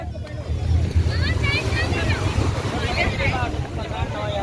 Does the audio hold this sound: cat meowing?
no